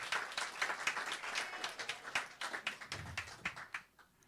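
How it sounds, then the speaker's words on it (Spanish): Church congregation applauding during a Spanish-language worship service, a steady patter of many hands clapping at moderate distance, thinning out toward the end. "Dan un aplauso al Señor, claro que sí."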